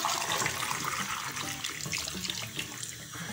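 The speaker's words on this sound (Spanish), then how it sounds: "Vamos a prender el fuego y le vamos a echar el agua." Water pours steadily into a cooking pot holding potatoes, a continuous splashing rush heard up close with no talking.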